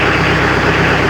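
Kioti DK55C tractor diesel engine idling after a head gasket replacement, a steady, dense, close rumble held at even loudness throughout, with no voices.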